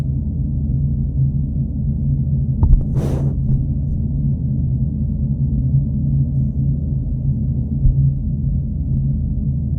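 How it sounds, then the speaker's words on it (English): Steady, muffled low room rumble with the highs cut away by the passive isolation of Skullcandy Crusher ANC 2 headphone ear cups with noise cancelling off, and one brief soft swish partway through. "what you're hearing right now is the passive noise cancelling with ANC off"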